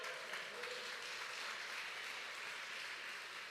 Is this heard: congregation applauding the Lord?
yes